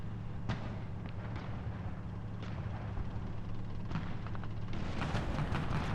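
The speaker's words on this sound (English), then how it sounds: "So there may be tanks up there shooting back and forth." Tank guns fire in War Thunder ground battles, several sharp distant booms scattered over a constant low engine rumble, with a busier cluster of reports toward the end.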